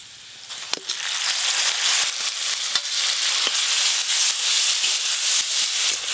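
Ridge gourd peel paste sizzles in hot mustard oil with black cumin, garlic, green chili and turmeric, a steady close frying hiss with scattered crackles and stirring scrapes throughout.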